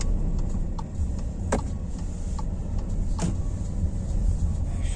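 VW Polo 1.0 Comfortline pulling away, heard from the cabin as a steady low engine and road rumble with the turn signal ticking in a regular rhythm and a couple of brief clunks.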